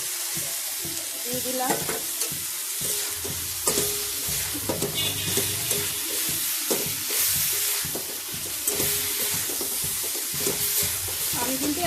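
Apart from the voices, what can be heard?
soy chunks added to the pan and frying for soya pulao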